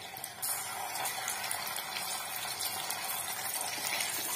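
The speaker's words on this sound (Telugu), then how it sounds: "ఇందులో ఎండు చేప ముక్కల్ని వేసి ఫ్రై చేసుకుందాం" Dry fish pieces frying in oil in a kadai give a steady, hissing sizzle, loud and close, continuous after a brief softer start.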